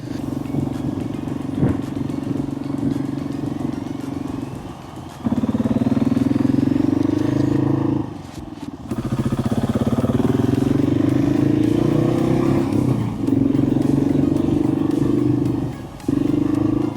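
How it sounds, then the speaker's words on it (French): A KTM 690 SMC R single-cylinder motorcycle engine drones loudly and steadily, rising and dipping with throttle changes, with a couple of brief drops as the rider shifts. "dites-moi aussi si vous kiffez le bruit de la moto"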